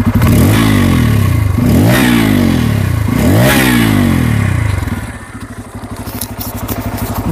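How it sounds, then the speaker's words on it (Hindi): A Bajaj Pulsar N250 single-cylinder motorcycle idles in neutral on its side stand and is revved loudly three times in quick succession, each blip rising and falling, before settling back to a lumpy idle. "तीसरा चीज आपको इंजन का साउंड सुनाता हूँ, तो वो भी गौर से सुनिएगा।"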